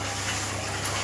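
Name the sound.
water being poured into the cooking pot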